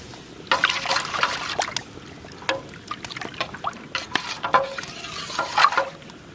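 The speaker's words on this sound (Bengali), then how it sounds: "দিয়ে দেবো গোলানো আতপ চালের গুঁড়ি, নাড়া দাও" Rice flour paste and ground roasted spices being stirred into cooking liquid for an ash gourd and prawn curry, with repeated close scraping and liquid sloshing in a steady rhythm, no talk.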